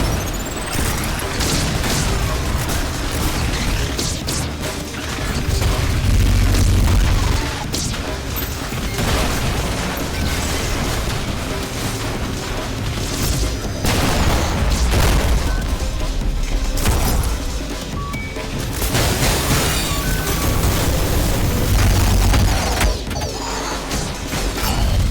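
Ultrakill's artillery beam and surrounding combat sound as loud, dense mechanical clatter, booms and crashes through a long stretch, with heavy low-end blasts recurring every several seconds, no voices.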